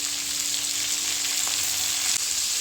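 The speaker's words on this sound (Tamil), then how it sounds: "வெங்காயம் நல்லா வதக்கிடுவோம்." Onion sautés in a pan for an okra milk curry, giving a steady, loud sizzle with a faint scrape of stirring partway through.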